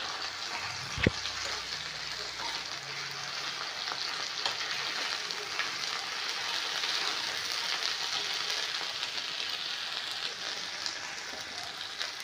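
Ginger, garlic, onion and tomato sizzle steadily on a hot tava, a continuous close frying hiss with a brief clatter near the start and no talking.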